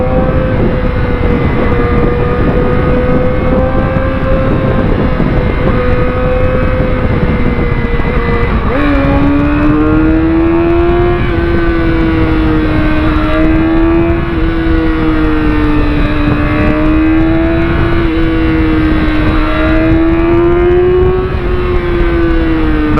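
A motorcycle accelerates on a road: a loud, continuous engine drone whose pitch climbs and wavers as the rider speeds up, steady and close throughout with wind noise.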